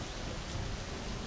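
Steady rain with a low thundery rumble in the My Summer Car video game, a continuous dense hiss of moderate level with no voices and no distinct thunderclap.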